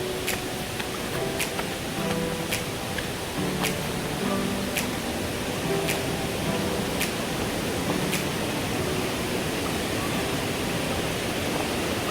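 A river rushes near a waterfall during the monsoon, making a steady, broad roar that fills the whole clip. Faint scattered clicks sit on top of it, and there is no talking.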